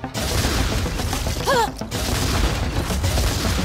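Rocket launcher fire in the video game Sanctum 2 blasts steadily through a dense, continuous barrage of booming gunfire, loud and close, with a brief rising whistle partway through.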